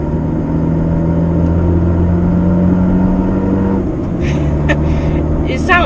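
A Fiat Panda's engine drones and revs with a raspy, throaty note from an Abarth Monza sports exhaust, pitch shifting as it changes speed, with faint background sounds.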